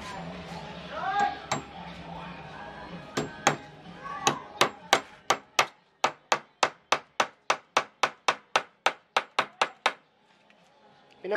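Hammer blows drive nails into a wooden DIY computer desk, starting as scattered strikes under talk and settling into a steady run of about fifteen sharp, evenly spaced knocks, close and fairly loud.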